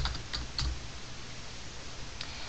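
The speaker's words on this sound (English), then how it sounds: "You can actually just type it in here into the search bar here and type in diary," Computer keyboard keys tapped in a few quick, light clicks as a search term is entered, close and clear over a steady low background hum, with no talking.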